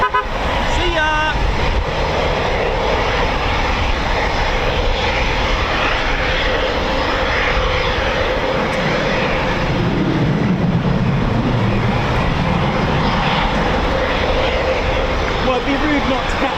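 A Eurofighter Typhoon FGR4 jet takes off at RAF Coningsby, a loud, sustained broadband engine roar filling the whole stretch with little change in level, with voices faintly mixed in.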